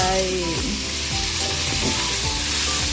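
Pork belly fries in a pan with a loud, continuous sizzle and crackle, with occasional stirring scrapes and no talking.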